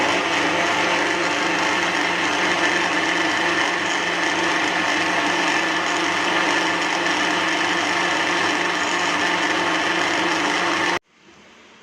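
Watermelon juice and ice cubes churning in a blender give a loud, continuous whirring roar that stays steady for about eleven seconds and then cuts off abruptly.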